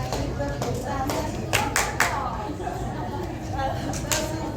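Several people clap their hands in time with a cheerful Malay children's sing-along, sharp claps landing in rough rhythm under singing voices and background chatter.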